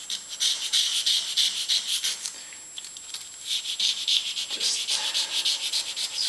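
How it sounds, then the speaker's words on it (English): Parts of an American Pacemaker lathe being scraped clean during reassembly: a quick, rhythmic series of close, raspy scraping strokes, short pause mid-way, then more strokes. "scraping."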